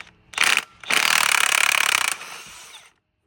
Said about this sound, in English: it's easiest using a torque wrench gun